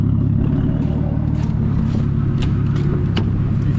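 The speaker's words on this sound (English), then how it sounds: "It only makes sense to take the 240 for a rip down the road" A Nissan 240SX drives down a road, its engine a steady low rumble heard from close by, with light clatter over it and no voices.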